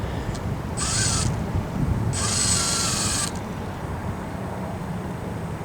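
SCX24 RC crawler with a brushless motor crawling slowly, giving two bursts of high whining mechanical buzz, each a second or so long, over steady background noise.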